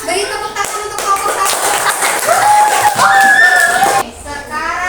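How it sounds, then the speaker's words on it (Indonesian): A classroom applauds a student group, a steady burst of clapping from many hands lasting several seconds, with children's voices and shuffling mixed in before it tapers off. "Beri tepuk tangan untuk kelompok"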